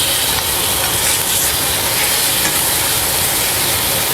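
A chuck eye steak sears in a hot pan, giving a loud, steady, unbroken sizzle and hiss close up, with no talking.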